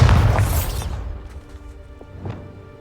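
A loud, heavy blast from the Bombarda explosion spell in Hogwarts Legacy, a single booming burst at the very start that rolls off into a rumbling tail and scattered debris clatter.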